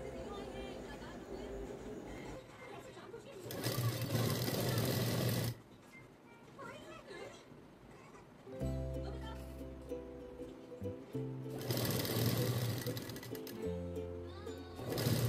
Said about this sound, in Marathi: त्या मार्किंगवर सरळ रेषेत टिक मारून घ्यायची आहे